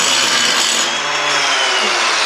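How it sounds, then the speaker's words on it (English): An angle grinder works loud and steady on the metal floor pan of a VW Baja Bug, a close, continuous harsh rasping roar lasting the whole stretch without pause or talk. "so let me grind that out real quick."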